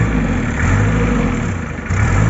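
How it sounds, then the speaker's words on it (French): An old Rover English taxi engine runs on after years without regular use, a loud, close, rough and chugging tractor-like rumble that holds steady throughout. "Ça fait un bruit de tracteur mais c'est normal."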